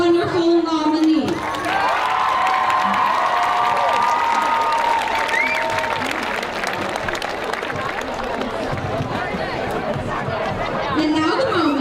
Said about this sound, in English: Can we please have a round of applause for our wonderful nominee?